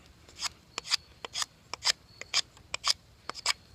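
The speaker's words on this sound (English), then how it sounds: "I'm gonna kind of use this as a piece of sandpaper, and by doing this right here, it will rounding out this" A wooden friction-fire spindle is rubbed against a rough surface to smooth it, giving a dozen or so short, raspy strokes in an uneven rhythm, close and fairly quiet.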